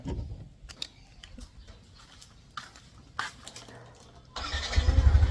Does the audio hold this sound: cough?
no